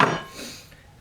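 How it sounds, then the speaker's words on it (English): A single sharp hammer blow drives a nail into wood in a wall, ringing out loudly at first and fading over a second. "Do a little extra hammering here to solidify the nails"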